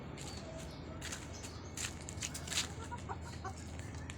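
Faint clucking from a small flock of five pet chickens kept as breeding pairs, scattered soft calls over a steady background hum.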